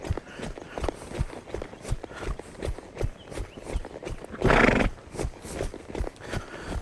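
A horse being worked in riding training, asked to lope, gives close hoofbeats in an uneven rhythm with a brief loud whinny near the middle, along with scattered movement sounds and no clear talk.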